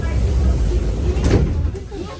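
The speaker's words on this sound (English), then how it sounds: "Doors are closing." Kyiv metro train doors sliding shut, a rumbling mechanical closing sound with a brief hiss near the middle, over steady carriage noise.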